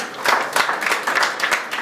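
Applause from an audience at an award ceremony as a certificate is presented to an actor, a steady burst of clapping filling the short moment at a lively, fairly loud level.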